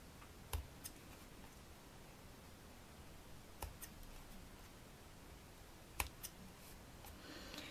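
Scissors snip a cardboard kumihimo disc, a handful of sharp, isolated clicks spaced a few seconds apart, close and quiet over steady background hiss.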